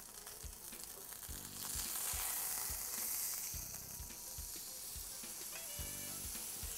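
Beef filet mignon steak sizzling steadily in a hot pan after being flipped, a continuous bright hiss and crackle with occasional clicks and knocks from utensils, close and fairly quiet.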